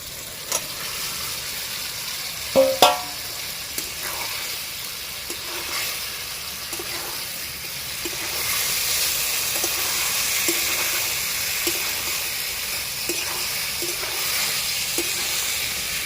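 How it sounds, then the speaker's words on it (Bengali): Cauliflower florets sauté in a pan with spices, ground nut paste and sour yogurt, a steady close sizzle with occasional spoon scrapes and stirring knocks, growing slightly louder and more hissing halfway through, no voices. "সব কিছু মশলা দিয়ে ভালোভাবে আমি কফিটাকে কষিয়ে নিয়েছি"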